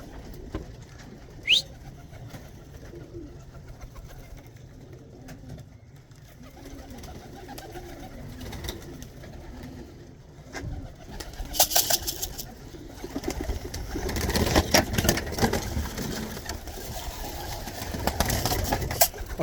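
Tippler pigeons coo softly at a loft during a young bird fly, low and steady, with rising outdoor rustle and noise building later in the stretch.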